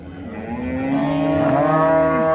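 Heifers at a livestock market in Boysun, Surxondaryo: one long, rising moo, loud and close, with farm-market noise underneath.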